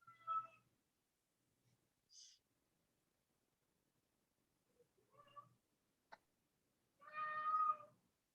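A house cat meows several times during a quiet stretch after a phone conversation. The calls are faint and spaced out, ending in one longer, louder meow, with only slight background noise and no talk over them.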